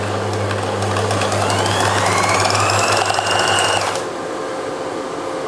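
An electric sewing machine stitches a shirt seam in one continuous loud, close run of rapid rhythmic whirring that stops about four seconds in, leaving a low background hum.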